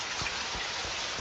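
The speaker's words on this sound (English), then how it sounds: "Man, it's raining, it's all muddy." Rain falls steadily in a dense, even hiss, with a few soft thumps of drops underneath, heard alone for a brief moment.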